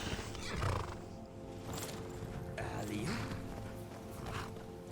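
A horse in a Skyrim role-playing game neighs loudly near the start, followed by a continuous clip-clop of hooves as it is ridden along, with a soft game music bed underneath.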